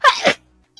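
A single sharp sneeze bursts out loud and close, followed by a brief quiet tail with a faint tiny click at the end.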